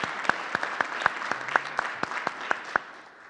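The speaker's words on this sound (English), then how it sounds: "we're going to give her a round of applause anyway for Miss Alicia Taylor" A small audience at a school board meeting gives a round of applause, a thin scattering of separate, sharp claps from a few people in a quiet room.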